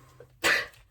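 A single short, breathy sneeze bursts out close by in an otherwise quiet room, lasting about a fifth of a second, followed by a faint breath.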